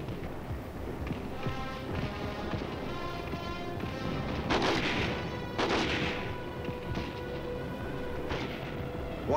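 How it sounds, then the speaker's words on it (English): Tanks and machine-gun crews lay down covering fire in an Army combat battle, rapid repeated gunfire bursts and heavy booms under a steady rumbling din, with several sharp, louder blasts toward the middle. "While tanks and machine gun crews lay down a blanket of fire to keep the enemy pinned down"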